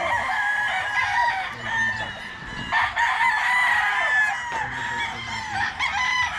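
A gamecock stag crows at a farm, several drawn-out crows and clucks from nearby birds overlapping with other fowl in the background.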